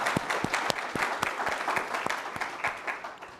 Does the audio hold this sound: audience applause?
yes